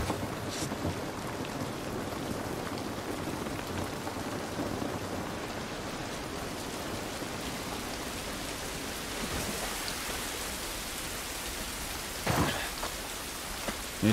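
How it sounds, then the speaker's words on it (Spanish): Rain falls outdoors in The Last of Us, a dense continuous patter on surfaces with distant rumbles of thunder and a brief louder burst near the end, with no talking. "Esta lluvia no nos va a ayudar."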